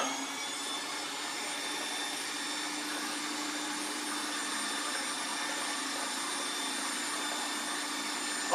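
Electric mixer blending xanthan gum into a liquid base, a continuous high whirring drone running steadily and close.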